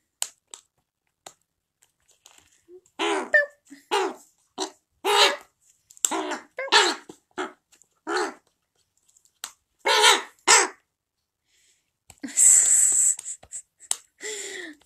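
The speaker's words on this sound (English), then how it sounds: "So he is a raven." A pet raven gives a long series of loud, close, croaking caws in irregular bursts separated by short pauses, ending in a harsher, raspier call.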